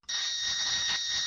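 Steady electronic warning tone from the radar warning receiver in the Falcon BMS flight simulator, signalling an SA-2 surface-to-air missile radar tracking, a continuous high buzzing beep held for over a second with a brief dip near the end.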